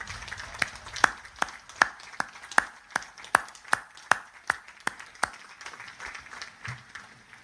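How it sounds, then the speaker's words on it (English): At a Naval Academy graduation ceremony, sharp individual claps ring out in a steady rhythm across a large space, reverberant and spaced about every half second over a low crowd murmur. "give them a huge round of applause to celebrate all they have done to get you to this moment"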